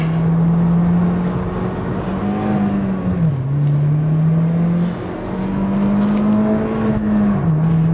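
A Hyundai Genesis Coupe 2.0T R-Spec engine drones steadily and loudly on a race track, pitch climbing through each gear then dropping briefly at shifts, repeated as the car accelerates hard.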